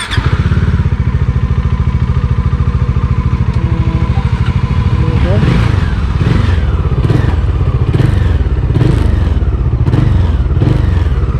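A Bajaj Dominar 400 motorcycle engine runs steadily up close with a throaty, continuous rumble, joined by light clattering and thumps partway through.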